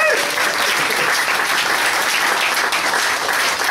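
Audience applause at a folk music session at the Exeter Folk Project: dense, steady clapping from a crowd indoors, loud and sustained for a few seconds with no distinct voices.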